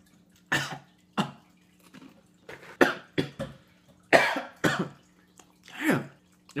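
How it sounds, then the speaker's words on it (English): A person coughs and clears their throat in repeated harsh bursts close to the mic after eating hot Cheetos and Takis, with short quiet gaps between the fits. "I just need to clear my throat."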